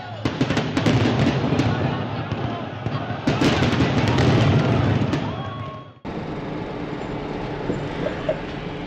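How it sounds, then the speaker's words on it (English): Fireworks display at Niagara Falls in the evening: a dense run of sharp bangs and crackles over a constant heavy roar, loud and close, easing briefly near the end before the rumble carries on. "A YouTube user pointed out the upcoming fireworks to me in the evening."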